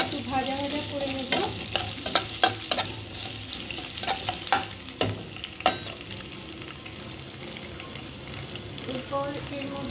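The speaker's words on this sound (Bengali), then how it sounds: "একটু ভাজা ভাজা করে নেব" Chopped ginger fries with dried chili and cumin in hot oil, with a steady sizzle under repeated clicks and scrapes of a spoon stirring the pan.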